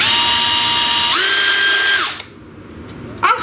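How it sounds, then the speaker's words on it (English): A power drill bores ventilation holes in a plastic container lid, whining steadily and loud for about two seconds with a rising pitch as it bites, then stops; a brief scrape follows near the end. "I have a drill. It will drill."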